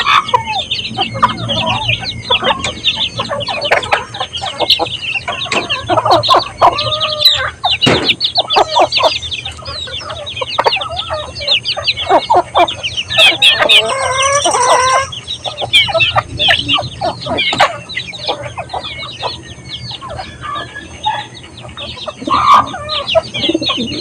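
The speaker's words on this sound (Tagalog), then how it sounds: "Pakain tayo kasama mga manok." Chickens cluck and chatter steadily at feeding time alongside pigeons being fed, with a rooster crowing midway and scattered chirps, all close and lively with no talking.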